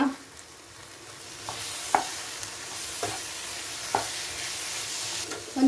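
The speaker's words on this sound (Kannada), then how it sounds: "ಹಸಿ ಬಟಾಣಿಯನ್ನು ಹಾಕಿ ಚೆನ್ನಾಗಿ ಒಂದ್ಸಲ ಇದನ್ನು ಮಿಕ್ಸ್ ಮಾಡುವ" Fresh green peas fry in a pan with a soft, continuous sizzle while a spoon stirs them in a few distinct scraping strokes, close and fairly quiet, with no voices.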